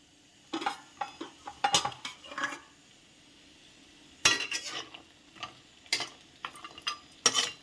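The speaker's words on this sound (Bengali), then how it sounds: "তো বড়িটা আমি এখন ভেজে নেব।" Urad dal bori fry in hot oil, mostly heard as a series of close utensil clicks and scrapes in a pan over a faint sizzle. The stirring comes in irregular bursts, quiet overall and without speech.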